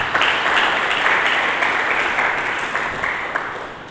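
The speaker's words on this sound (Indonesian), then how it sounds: "Mari kita berikan tepuk tangan." A church congregation applauds in a dense, steady wash of clapping that fills the room for several seconds and eases off slightly toward the end.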